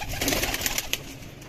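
Breeder pigeons cooing softly nearby in a loft, a few short, low throaty coos in quick succession.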